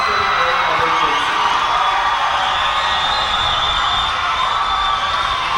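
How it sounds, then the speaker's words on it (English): Crowd in a high school basketball gym roaring and cheering steadily, a dense loud wash of voices and whoops sustained across the whole span. "Big roar of the crowd goes up there"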